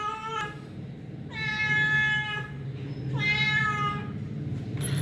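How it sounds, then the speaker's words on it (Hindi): Cats meow in two clear, drawn-out calls close by, with a shorter cry at the start and end, over a low indoor background hum at a home in Pakistan. "और ये आ चुकी हैं बिल्लियाँ, इन्होंने मेरी आवाज़ सुनी है।"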